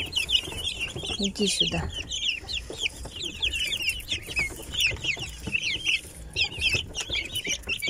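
Silkie hens and their young chicks cluck and cheep in a busy, continuous chorus close by, with high chirps layered over low clucks; a person speaks briefly amid them.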